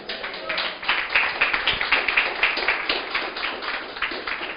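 A church congregation claps together indoors, a dense wash of many hands at moderate distance with no clear talking.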